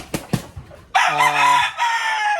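Laying hens and a rooster at a poultry farm: a few short clucks, then a loud, close rooster crow that holds for over a second with no voices.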